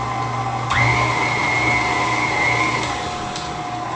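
Electric hand mixer whirring steadily through a batter of dry ingredients and orange juice, a close continuous motor drone that starts abruptly and holds with slight changes in pitch, heard alone.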